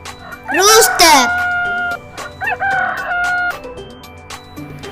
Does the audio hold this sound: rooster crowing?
yes